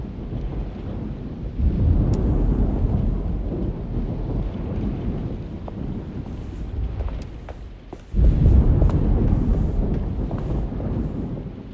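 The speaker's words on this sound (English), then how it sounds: "Looks like a storm's coming." Approaching thunderstorm in the video game Alone in the Dark: a deep, continuous rumble with wind and rain noise that swells, briefly dips, then surges loud again, with faint scattered clicks and no speech.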